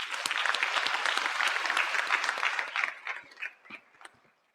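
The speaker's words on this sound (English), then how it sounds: "Let's give him a warm round of applause." A hall audience at a physics night gives warm applause welcoming a panel host, dense clapping that holds steady then thins out and fades to scattered claps before stopping.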